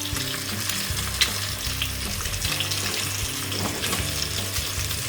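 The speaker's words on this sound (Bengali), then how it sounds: "পাশে শব্দ হচ্ছে, আমি আরও রান্না বসিয়ে দিয়েছি। এখানে রুই মাছ ভাজছি" Rohu fish fries in a pan with a loud, constant sizzle and crackle, under a low steady hum from the kitchen, with nobody speaking.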